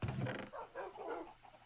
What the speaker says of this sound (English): Yeah, I like having a lot of dogs.